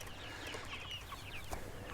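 About twenty Red Ranger chickens in an A-frame chicken tractor cluck softly and continuously, with scattered faint chirps over a quiet outdoor background.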